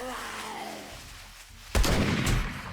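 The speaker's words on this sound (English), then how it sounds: "Time to break out the shotgun." A shotgun blast in the zombie survival game 7 Days to Die, with a sharp broadband report followed by a second loud boom and a short rumbling tail.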